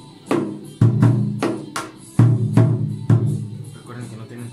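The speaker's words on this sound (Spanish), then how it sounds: "Hasta este punto la tarola suena así." Snare drum tuned for Sinaloan banda style, with no torsion yet, struck about six times at an uneven pace, each hit a sharp crack followed by a short ringing tail, close and fairly loud.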